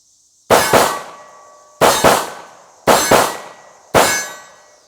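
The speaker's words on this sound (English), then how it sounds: "this time let's try some double taps to see how controllable this Taurus is" A Taurus 1911 pistol fired in four double taps, each pair of sharp, loud, close cracks followed by a quick ringing decay, spaced about a second apart, with no talking.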